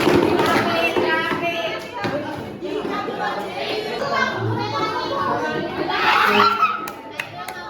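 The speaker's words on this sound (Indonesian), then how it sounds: "Tepuk tangan semuanya." A class of eighth-grade students applauds after a poetry recitation in an Indonesian-language lesson, steady clapping and crowd noise from the room with children's voices mixed in.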